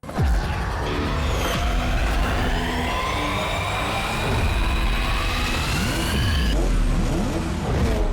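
Cartoon super-speed car zooming out of its garage, engine revving hard with rising, sweeping whine and a siren-like tone, loud and continuous throughout with no talking.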